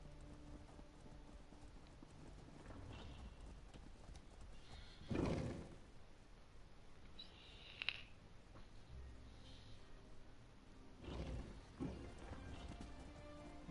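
A horse whinnies a couple of times over a steady low background hum, with soft hoofbeats clip-clopping intermittently, in the video game The Elder Scrolls Online.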